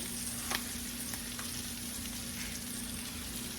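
Tender liver sizzles in a pan on a bed of onions, a steady close frying hiss with a few brief clicks, no voices.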